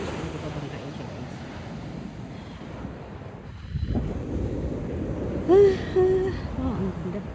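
Strong sea waves wash and surge along a coastal road in Davao City, heard as a broad rushing roar mixed with wind buffeting the microphone, while a voice speaks briefly near the end.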